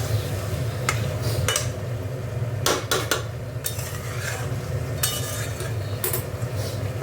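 Gilemete being stir-fried in a pan: a spatula clinks and scrapes against the metal in irregular strokes over a steady, low background rumble, with no voices.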